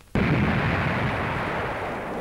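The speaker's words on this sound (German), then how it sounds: "dass in der Schweiz eine so schwere Bombe explodiert" A heavy bomb in Switzerland, triggered electrically, detonates about 250 metres away. A sudden loud blast breaks the quiet and rolls on as a broad, sustained rumble that fades only slightly.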